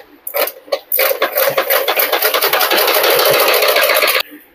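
A sewing machine runs fast and loud on blouse piping, a close rapid needle clatter that starts after a couple of short bursts and holds steady for several seconds before stopping abruptly.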